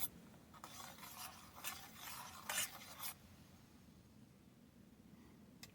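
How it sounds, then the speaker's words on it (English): A spoon stirs and scrapes through hot Grape-Nuts with cranberries in a pot over very low heat, giving a soft gritty rasp in a few short strokes that then fades into quiet. "Give it a stir."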